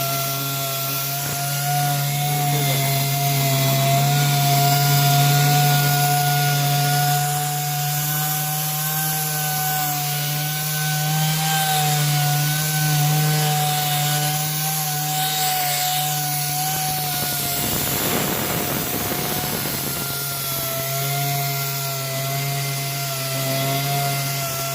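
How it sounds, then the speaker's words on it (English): A power sander works steadily across a guitar body being prepped for a headless Telecaster, a loud continuous whine with a droning hum, close and unbroken for the whole stretch, with no talk. "Here's a couple of short clips of the guitar kind of getting prepped and getting sanded."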